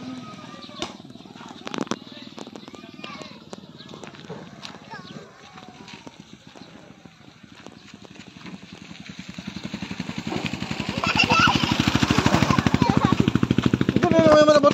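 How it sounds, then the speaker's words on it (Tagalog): A motorcycle approaches on a rural provincial road in the late afternoon, its engine rumble building steadily and growing loud near the end, while people chat in the background. "Ito na may motor."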